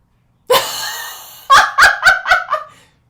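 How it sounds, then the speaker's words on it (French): Birds call outdoors, one drawn-out honking cry followed by four short, loud calls in quick succession, clear and close with no talk over them. "Il y a des oiseaux."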